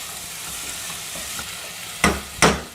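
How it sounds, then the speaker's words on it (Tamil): Garlic, ginger, onion and tomato sautéing in a pan with salt, a low steady sizzle broken near the end by two sharp scraping stirs of the spatula. "இந்த பூண்டு இஞ்சி வெங்காயம்லாம் பாதி வதக்கிட்டோம்"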